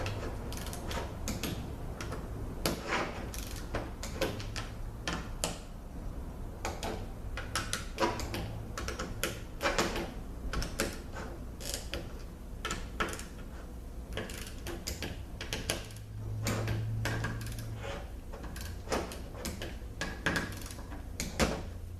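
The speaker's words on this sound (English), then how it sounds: "We'll torque these things down, and we'll be right back." A torque wrench set to 80 inch-pounds tightens valve body bolts on a Toyota A140 automatic transmission, giving many sharp, close mechanical clicks and ratcheting ticks in an irregular rhythm, with no talking.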